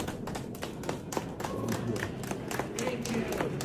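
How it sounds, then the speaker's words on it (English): Scattered hand claps from a small group of people sound under continuous talking, with uneven taps rather than full applause. "And you know, some people clapping"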